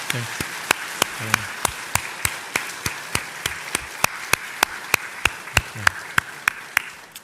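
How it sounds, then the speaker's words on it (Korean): At a dawn special prayer service, a church congregation claps together in a steady, even rhythm of sharp, distinct claps, with a voice speaking faintly underneath at times. "감사와 격려의 박수를 한번 다 같이 하겠습니다."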